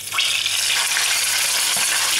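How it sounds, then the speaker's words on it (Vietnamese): Round scad fish frying with ginger in a large pan: a loud, steady, close hiss of oil sizzling without pause, alone with no voices. "thì mình nên cho gừng vào và cho cá vào"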